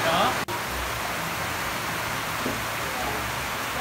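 Heavy rain pours down steadily in Panama, a dense continuous hiss close by, with a brief voice at the start.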